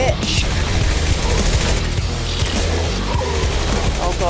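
Dense video game gunfire crackles in rapid bursts with heavy booms throughout, a loud, busy firefight that keeps going without pause while a player talks over it.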